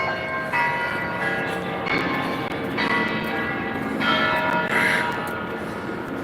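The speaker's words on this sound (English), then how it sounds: "I've never heard that church bell ring" A church bell rings in a city street, heard as a sustained run of metallic ringing strokes that swell and fade, moderately distant, with no talking.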